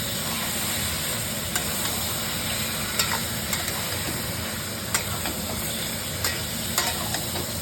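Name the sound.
spice paste frying in a pan for meat curry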